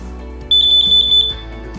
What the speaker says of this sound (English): Carbon monoxide alarm.